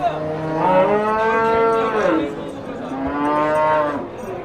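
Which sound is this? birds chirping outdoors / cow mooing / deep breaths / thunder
cow mooing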